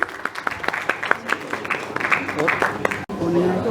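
Audience at a Bollywood awards ceremony breaks into sustained applause, with dense clapping from a crowd filling the hall and a voice briefly heard over it near the end.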